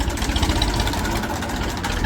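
A tractor engine runs at a steady idle, a continuous low, loud chugging drone with no pauses.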